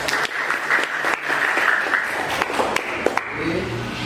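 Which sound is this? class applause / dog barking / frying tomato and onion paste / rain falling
class applause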